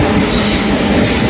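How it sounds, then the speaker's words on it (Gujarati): A train rolls into a station beside a WAP7 electric locomotive, a steady loud rumble of wheels and wagons with a faint grinding tone, close and continuous. "જો આપણી WAP7 સાથે બીજી કોઈ ગાડી એન્ટર થઈ રહી છે."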